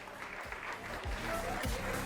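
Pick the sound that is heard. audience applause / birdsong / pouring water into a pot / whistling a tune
audience applause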